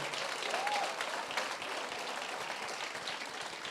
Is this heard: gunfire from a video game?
no